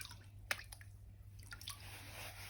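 Quiet water trickles and drips through the riffles of a gold sluice loaded with river gravel, with soft wet squishes and a small splash near the start, close and gentle.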